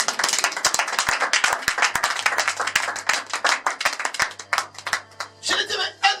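Church congregation clapping in rhythm, sharp, fast, fairly close claps running throughout, with voices and cheering mixed in underneath and a burst of louder shouting near the end.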